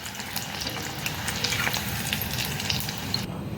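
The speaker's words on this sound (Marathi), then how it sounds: "ह्याच्याबरोबर आता आपण 2 मिरच्या पण तळूया भज्यांबरोबरच." Slit green chillies deep-fry in hot oil alongside round onion bhaji, giving a dense, steady sizzle that stays loud and close throughout, with no voices.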